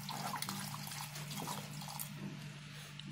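Water poured from a plastic bottle onto garden plants, a steady close splashing trickle that runs for a few seconds without talk.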